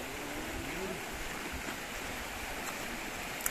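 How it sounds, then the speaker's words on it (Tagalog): A waterfall on a river crossing at Mt. Oriao in Uyong, Labrador, Pangasinan, heard as a steady broadband rush of falling water with some wind buffeting the microphone and no voices. "Ayun na ang falls, oh."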